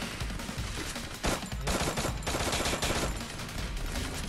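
Gunfire in the mobile game Free Fire, dense rapid bursts of shots over a busy, noisy background, fairly quiet overall with a few louder volleys near the middle.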